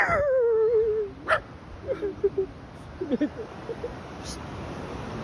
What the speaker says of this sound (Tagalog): Galit na galit ang aso.